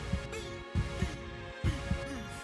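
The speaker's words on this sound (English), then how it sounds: "Can you feel my heartbeat?" A steady heartbeat sound effect pulses in regular lub-dub pairs, deep and thumping, repeating three times without any voices.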